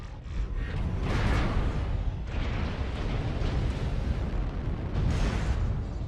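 Airstrike explosions in a mech combat video game: loud, dense booming blasts that swell and roll on with rumbling low end, sharper bursts near the start and again toward the end.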